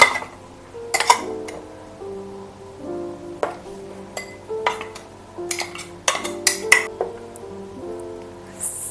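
Potato, beetroot and chia seed face-pack paste scooped into a glass, producing a run of light clinks, taps and scrapes of a utensil against glass at irregular intervals, close and clear, with no talking.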